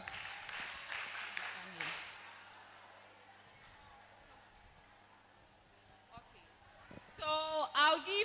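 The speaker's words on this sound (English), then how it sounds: "Clap for Sharon" An audience at a World Menstrual Hygiene Awareness Day and health screening event gives a short burst of scattered clapping that fades quickly. The sound is faint and distant, with voices and room noise continuing afterward.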